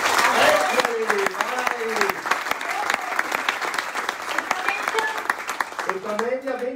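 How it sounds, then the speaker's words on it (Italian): Applause from an audience of young local administrators in a conference hall, with sharp claps continuing throughout while people talk over it. "Un grande applauso, ragazzi, dai!"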